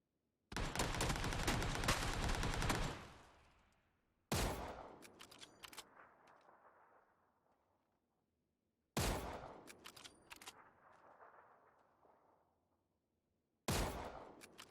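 Gunfire in a PC shooter run at low graphics settings: a long sustained burst of automatic fire, then short sharp volleys with fading echoing tails at intervals, loud and alone with no talk.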